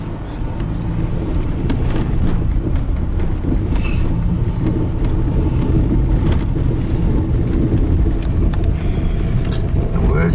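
A camper rolls along near the Fontenelle Reservoir, about 40 miles south of Big Piney and Marbleton near La Barge, Wyoming, with a steady low engine and road rumble plus wind noise running constantly throughout.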